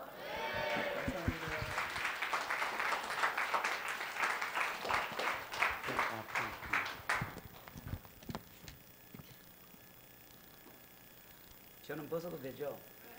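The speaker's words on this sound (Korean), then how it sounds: "우리 오늘 목사님 나오실 때 우리 큰 박수로 환영했으면 좋겠어요" A church youth retreat congregation claps loudly to welcome a pastor, a dense burst of applause that thins into scattered claps and fades to near quiet, with a voice speaking briefly at the end.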